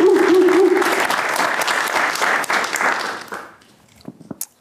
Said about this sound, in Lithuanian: palaikime plojimais